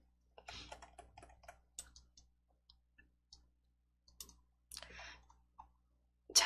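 Computer mouse clicks while copying and pasting code, sparse sharp clicks in irregular clusters, close and quiet in an otherwise silent room.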